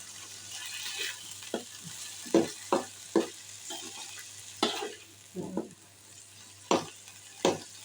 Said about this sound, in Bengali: আমি একটু ভালো করে ভেজে নিব।